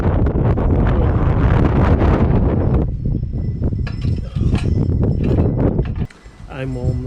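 Heavy wind buffets GoPro 6 Black stereo microphones outdoors on a windy day, a loud continuous low rumble that eases slightly partway through, with brief gusty dips near the end.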